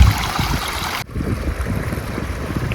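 Water runs along an outdoor channel in a steady rushing wash, loud and close for the first second, then cut off abruptly and continuing as a softer, lower murmur.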